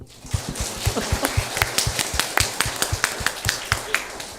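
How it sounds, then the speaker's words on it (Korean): Rhythmic clapping from a congregation at a Korean church Easter family service, a steady run of roughly twenty sharp claps that starts after a brief pause and continues evenly. "박수"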